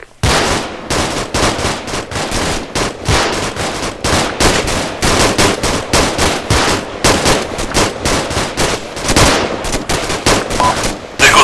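Gunfire in the combat game Arma 2, loud close bursts of rapid automatic fire in repeated volleys with brief gaps, steady and intense for the whole stretch.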